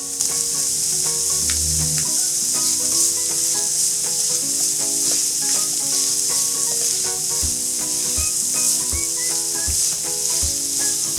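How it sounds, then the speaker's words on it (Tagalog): A whole head of garlic sautés in a pan for a cream of mushroom dish, giving a steady, loud sizzle with scraping stirs and a faint tune running underneath. "Igigisa lang natin to ng ilang minuto."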